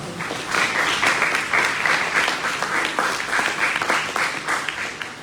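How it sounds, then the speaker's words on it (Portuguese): A church congregation applauding, sustained dense clapping from many hands, loud and close throughout with a few faint voices mixed in. "Deu uma salva de palmas a vocês."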